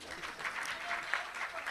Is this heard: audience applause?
yes